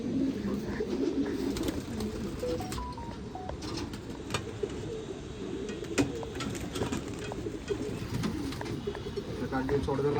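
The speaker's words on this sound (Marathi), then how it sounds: "धाबरी सगळ्यात पहिला कबूतर आहे" Pigeons at a loft coo softly in a busy bird-filled setting, a steady low murmur of calls continuing throughout with occasional brief chirps and knocks.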